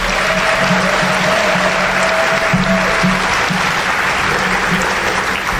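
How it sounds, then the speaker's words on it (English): An audience at a high school academic awards ceremony gives a round of applause for honored students, a continuous full crowd clapping that holds evenly throughout, with a faint tone and low murmur beneath. "So let's give them a round of applause."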